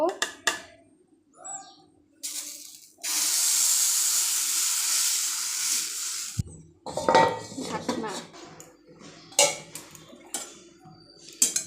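Metal pans and a wok clatter and scrape on a stove, with a long hiss in the middle and scattered clanks and knocks.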